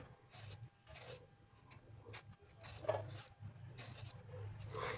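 The skin of a small bottle gourd is scraped off in the kitchen, giving quiet, close rasping strokes that repeat irregularly with short pauses. No talking is heard.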